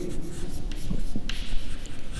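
Pen or marker strokes scratch continuously as a chemical formula for ferrous sulfate is written out, a steady close scribbling texture with small taps, no talk over it.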